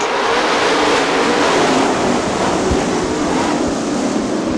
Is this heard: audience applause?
no